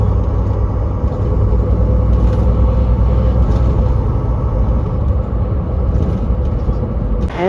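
Truck cab driving on a rough, uneven road in the USA, a loud, steady low engine and road rumble with continuous heavy droning and faint rattles, close and unbroken.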